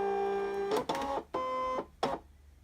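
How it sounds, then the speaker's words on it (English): A Brother ScanNCut cutting machine draws in its cutting mat with a few short, quiet motorized whirs, each a steady tone that stops abruptly, separated by brief pauses. "You're going to offer it up to the machine and press the load mat button to the right of your monitor."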